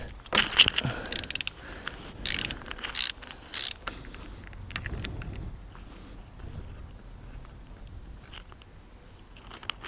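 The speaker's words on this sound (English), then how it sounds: "So I've just rotated the crank" A ratchet turns an Audi engine crankshaft by hand, giving a series of close, dry clicks and mechanical ratcheting in the first few seconds, then quieter, scattered clicks with no talking.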